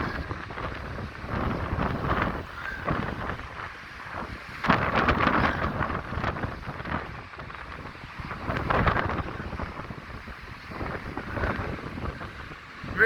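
Freezing cold wind roars and buffets the microphone beside high waves crashing at the Blackpool promenade in December, a continuous rough rumble that swells in gusts, with no voices.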